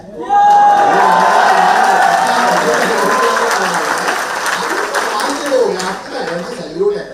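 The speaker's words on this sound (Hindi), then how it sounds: "जिस एनर्जी के साथ आप लोग ताली बजा रहे थे ना" An audience at a New Delhi business meeting claps loudly and steadily, with some cheering mixed in, the applause sustained and full before gradually thinning; voices are audible under it.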